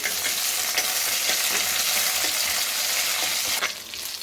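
Curry leaves from the home garden crackle and sizzle in hot oil while being stirred, a dense steady frying hiss with small pops throughout, easing slightly near the end; no voices.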